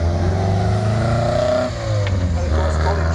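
An early MGB fitted with a 2.5 litre straight six engine accelerating at a hill climb, a loud, steady engine drone that rises in pitch, close by, with a brief dip midway.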